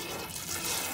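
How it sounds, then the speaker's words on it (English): Water hisses steadily as it fills a boat's toilet bowl. It is a continuous, close, fairly quiet rushing trickle with no talking. "This allows water to enter the toilet bowl and fill it as needed."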